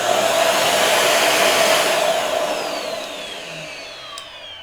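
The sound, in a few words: Samsung Bespoke Jet clean station motor suctioning like a vacuum cleaner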